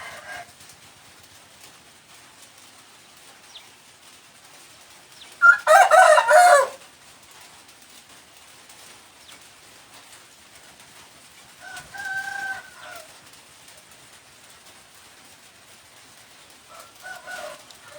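A rooster crows in a Thai village in the Isan region: one loud nearby crow, then two fainter, shorter calls later on, spaced apart against quiet background.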